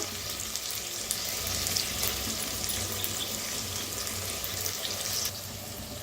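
Garlic-coconut paste roasting in a pan as it is mixed, a dense continuous sizzle and hiss with small scraping ticks, fairly close and steady, no talking.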